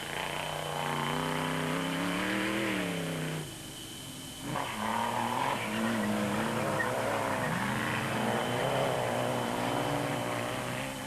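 Rally car racing at speed through narrow sugarcane rows in the 1996 Sugarbelt 400, steering bush broken; steady loud engine drone with shifting pitch, a brief dip in the middle, then revving resumes.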